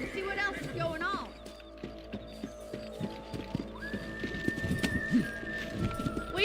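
Horses in the Red Dead Redemption video game: a horse whinnies near the start, then hooves clip-clop in a steady rhythm over in-game ambience, with faint bird calls and a voice speaking over the hoofbeats.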